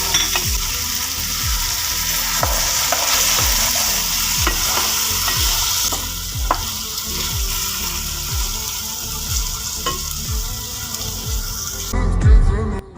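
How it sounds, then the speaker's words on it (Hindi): Masala for egg bhurji fries hard in oil while being stirred, giving a loud, steady sizzle with repeated scraping sweeps of the spoon against the pan and no talking. "ऑयल ऊपर आ गया है, इसका मतलब है मसाला हमारा भुन गया।"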